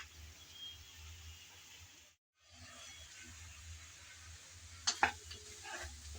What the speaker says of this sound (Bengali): তাই আবারও এসে একটু নেড়ে চেড়ে মিশিয়ে নিলাম।